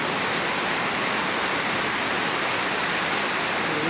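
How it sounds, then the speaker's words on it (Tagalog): Heavy rain pours down in a steady, dense roar during a dark stormy afternoon, with passing vehicles nearby, continuous and loud with no talking. "lakas ng ulan"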